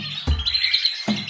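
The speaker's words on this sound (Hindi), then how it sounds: "चिड़ियों की आवाज हर तरफ थी।" Birds chirping in a forest as a sound effect for a story, bright close tweets and short calls repeating over a low rumble, with no voices.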